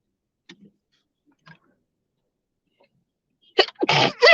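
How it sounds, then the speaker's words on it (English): A few faint ticks in near silence, then a sudden loud sneeze bursts out close up near the end. "Had a sneeze."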